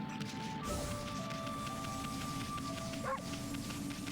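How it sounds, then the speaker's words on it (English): A dog barks once, briefly and close, in the video game Okami HD, over steady game music and background sound. "Dogs know how to bark from any angle, yeah."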